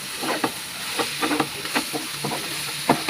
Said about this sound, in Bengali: 2টা ডিম অ্যাড করে দিলাম ভাজিতে।